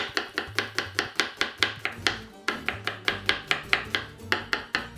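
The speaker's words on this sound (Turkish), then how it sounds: "yemeklik olarak soğanlarımı doğruyorum" A knife chops onions on a cutting board in fast, steady, evenly spaced knocks, close and crisp, with a brief pause midway before the rhythm resumes.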